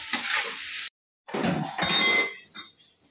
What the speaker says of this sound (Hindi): अब इसको हम चला रहे हैं, इसको भूनते रहेंगे जब तक हल्का ये रेड ना हो जाए।